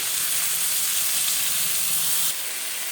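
Spices with onion and green chilli paste frying in a pan with a splash of water, a loud steady steamy hiss that drops slightly near the end, no voices.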